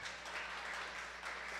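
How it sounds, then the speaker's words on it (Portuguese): A church congregation claps during a worship service, a brief, faint burst of dense applause heard from a distance. "Vamos aplaudir Jesus mais forte"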